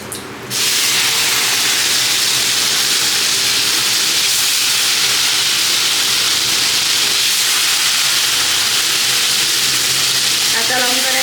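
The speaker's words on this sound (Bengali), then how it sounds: "কাঁচা লঙ্কা কিন্তু ফাট ফাট ফাট ফাট করে ফোটে" Green chillies dropped into hot mustard oil burst into a loud, continuous sizzle and hiss, with sharp crackling pops late on, no voices.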